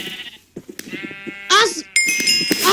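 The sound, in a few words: sheep bleating in the video game Minecraft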